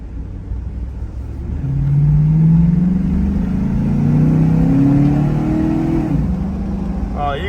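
GM full-size truck from 1999–2007 fitted with a Flowmaster Delta Force intake, its engine revving up from idle into a sustained rising drone and then easing back, loud and close.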